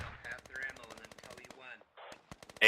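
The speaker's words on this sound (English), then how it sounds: "AR fire everywhere." Assault rifle fire in the video game Squad, with rapid bursts of shots crackling in fast runs and short gaps between them, moderately loud.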